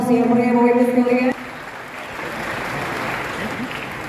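An audience at an official Indonesian event bursts into steady, broad applause right after an announcer's sustained tone. The clapping sounds moderately distant and continues evenly for several seconds.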